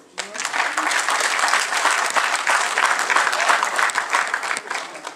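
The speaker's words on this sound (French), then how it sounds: "on va applaudir pour ceux qui sont aussi pour le dialogue" A crowd at a Congolese political gathering bursts into applause, loud, dense clapping that starts abruptly and holds steady, with some voices mixed in among the hands.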